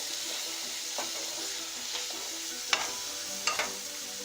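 Food frying in a pan gives a steady, close sizzle with light stirring clicks and a few sharper pops and taps of utensils against the pan.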